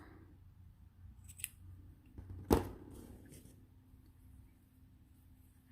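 A single crisp snip of scissors cuts crochet yarn, close and brief amid a quiet room, with faint handling rustles before and after.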